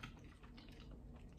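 Close, soft chewing of a McDonald's crispy chicken sandwich with lettuce and tomato, a continuous mushy crunch with a sharper crisp bite at the end.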